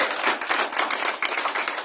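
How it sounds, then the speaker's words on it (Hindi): Dense applause from a large audience at a patriotic public gathering in India, steady crackling claps filling the whole moment, loud and close with no voices. "जोरदार ताली"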